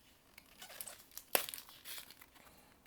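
Cardboard packaging of a Bakugan booster box crinkles and tears open nearby in soft rustles, with one sharp ripping burst midway, no talking.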